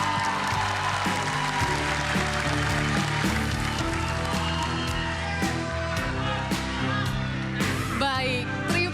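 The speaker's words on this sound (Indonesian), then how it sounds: "Kita tepukin bersama untuk ketiga paslon." A crowd at a Jakarta gubernatorial election debate claps together for the three candidate pairs, the applause mixed under loud, sustained music with sharp accents.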